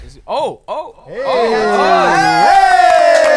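A tiny live crowd of a couple of people whoops and cheers loudly up close, with drawn-out excited shouts and talking mixed in.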